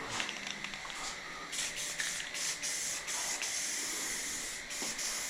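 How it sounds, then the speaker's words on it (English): An aerosol spray-paint can hisses in repeated bursts, close up, with brief gaps between sprays and a continuous airy rush, painting car sway bars. "So much easier to spray paint when you can actually see what you're spray painting."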